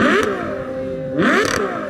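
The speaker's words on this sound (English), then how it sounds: "I guess Ferrari has the most beautiful engine sound I have ever heard" A Ferrari 812 Superfast engine revs hard twice, each blip rising and falling sharply, up close and loud with no talking.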